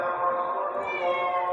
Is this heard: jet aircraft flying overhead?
no